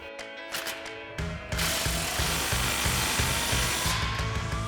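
An impact wrench with a 15mm socket tightens exhaust clamps on a Toyota Tundra's Corsa sport exhaust, hammering out a close, loud, steady rattle of rapid blows for about three seconds after a brief lead-in.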